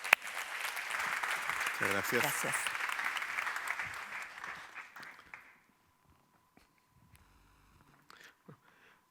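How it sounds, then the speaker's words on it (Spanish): A conference audience claps steadily for several seconds, then the applause fades out and a voice briefly offers thanks over the quiet. "le damos un aplauso"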